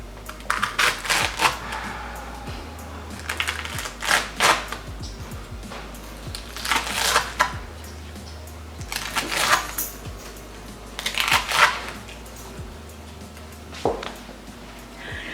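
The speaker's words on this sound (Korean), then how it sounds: "2번 튀긴 다음에 한번 잘라 보겠습니다." A knife slices through a twice-fried crispy pork cutlet, close crunchy crackling bursts repeated several times with pauses between, clear and alone without talk.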